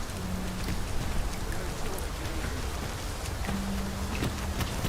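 Steady rain falls in a video game, a dense continuous hiss of drops with a faint tonal hum underneath, even and unbroken for the whole stretch.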